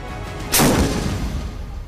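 A single heavy boom from a 155 mm artillery gun firing, a sudden loud blast followed by a rumbling decay that lingers for over a second.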